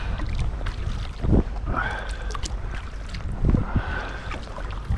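Southwest wind buffets a kayak out on an exposed open-water crossing, a close, gusty rush of wind noise with two louder bursts and soft water sounds beneath.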